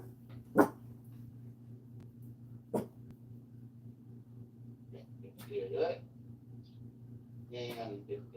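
A dog gives a few short, sharp barks and snorts, spaced out over several seconds against a steady low hum, with a person talking nearby.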